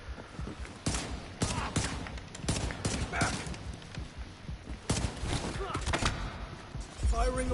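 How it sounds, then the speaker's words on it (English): Rapid bursts of gunfire at hostiles in The Division 2, a string of sharp cracks in irregular clusters over a busy combat background, with voices talking amid the shooting. "Firing on hostiles."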